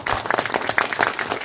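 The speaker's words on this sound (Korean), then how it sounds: "다시 한번 저희 대표님께 큰 박수 한번 부탁드립니다" Audience applause at a Korean education talk event in Jeonbuk, a steady crowd clapping that rises and falls in bursts throughout, fairly loud and close with no voices over it.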